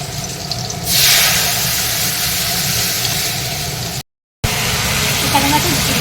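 Mung and masoor dal drop into hot oil tempered with five-spice and green and dried chillies. After about a second a loud, steady sizzling hiss bursts up and carries on, with a voice faintly present.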